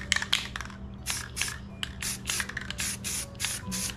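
Aerosol spray paint can hissing in a series of short, repeated bursts, close and fairly loud, used for painting a planet with clouds; no talking.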